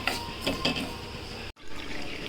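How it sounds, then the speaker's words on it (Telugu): Water poured from a glass into ghee-roasted, light brown semolina while making ravva kesari, a steady liquid pouring wash up close that cuts off abruptly near the end before faint kitchen noise resumes. "ఈ గ్లాస్తో మూడు గ్లాసులు వాటర్ వేసుకోవాలి"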